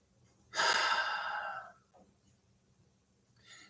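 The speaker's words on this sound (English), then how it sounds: "Take a deep breath." A single deep breath is drawn close to the microphone, a long airy inhale lasting over a second, followed by a faint brief exhale after a pause in an otherwise quiet room.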